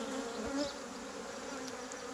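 Honey bees buzz steadily around an open hive during an apiary inspection, a constant low hum of many insects close by, with a few louder individual passes.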